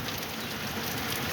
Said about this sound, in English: raining crazy out here.